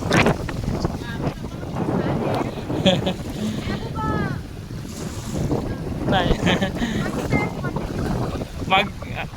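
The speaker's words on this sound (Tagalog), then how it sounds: "Bangka." Wind buffets the microphone over a running outrigger boat (bangka) and lapping sea water during a typhoon, with voices talking faintly in the background throughout.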